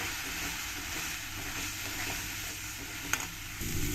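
Spice powders of coriander, cumin and chilli being stirred into a masala in a frying pan, a steady close sizzle with scraping strokes and one sharp clink near the end.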